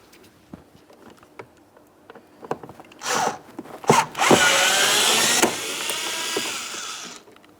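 Power driver backing a T20 Torx screw out of a 2008-2016 Chrysler Town & Country front door panel, a few light clicks and taps, then a loud close whirring run lasting several seconds.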